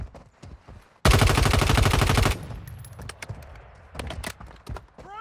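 A loud, rapid SMG burst in Warzone Mobile, played on an iPad Pro M2, roars for about a second, then scattered single shots and footstep-like thuds follow more quietly.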